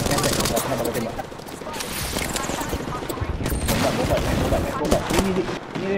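Rapid bursts of gunfire fill an Apex Legends match, dense and continuous across the whole stretch, with volleys overlapping and players talking over the shooting.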